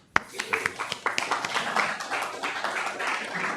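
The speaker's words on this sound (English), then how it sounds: "Let's clap for her" Audience members clap for a speaker at a ring shout symposium panel, starting with one sharp clap and growing into scattered, uneven claps that build into a modest round of applause, fairly close, with a voice faintly underneath.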